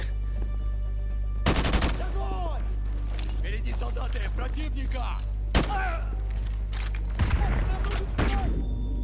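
Gunfire in the Call of Duty Modern Warfare 2 veteran campaign: loud bursts of automatic fire in two clusters, with scattered shots, chirpy effects and voices between them.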